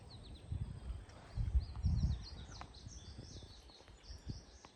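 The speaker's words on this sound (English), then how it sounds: "You can hear lots of birds." Outdoors on Peavine Island, birds give faint, quick chirping calls, several small birds twittering in the distance over low rumbling background noise.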